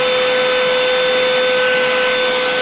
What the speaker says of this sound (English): this is how the Edifier WH950NB sound like with a very loud vacuum cleaner running in the background